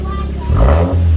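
Ford Fiesta engine with new exhaust mods revving up in a short, loud rising surge, a deep throaty rumble swelling then settling to a steady idle.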